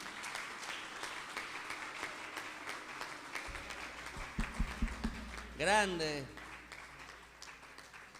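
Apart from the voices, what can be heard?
theatre audience applause for the cameraman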